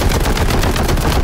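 Dense, sustained gunfire from a bolt gun and heavy bolter in the Warhammer 40k: Boltgun video game, a loud, continuous burst of rapid shots and impacts filling the whole moment without pause.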